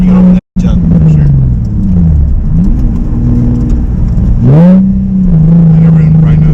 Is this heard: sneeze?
no